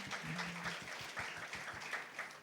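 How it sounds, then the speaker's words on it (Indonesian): A church congregation applauds during an online worship service, a steady wash of claps filling the space at a fairly low level, with a brief low hum near the start. "Yang mau tepuk tangan bagi Tuhan Yesus kita."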